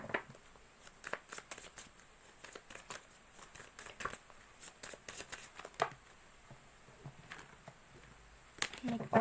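Playing cards are shuffled and drawn for a tarot-style reading, giving a series of quick, close riffling and flicking bursts in an irregular rhythm, with soft background sounds between them.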